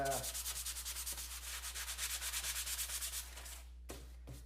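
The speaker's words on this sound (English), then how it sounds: "I'll grab a piece of paper, piece of sandpaper, and we can show you can remove all that fur pretty easily" A piece of sandpaper rubbed back and forth over freshly routed wood on a guitar body control cavity, about twenty quick even strokes, close and faint, then a couple of slower strokes after a pause.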